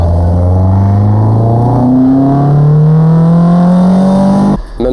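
A 2 litre 16 valve car engine revs hard and close, its pitch climbing steadily for several seconds before cutting off abruptly near the end.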